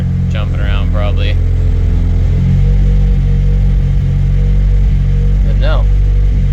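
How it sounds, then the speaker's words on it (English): A Nissan 240SX drift build idles steadily with a low, even rumble, close by in a garage, while someone talks over it in a couple of short bursts. "Well, it's idling much better than it did."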